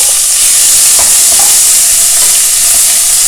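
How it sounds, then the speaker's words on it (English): Finely chopped onion sautés with curry leaves in a pan for tomato poha, a loud, dense, continuous sizzling hiss with faint stirring knocks underneath. "Saute the onions."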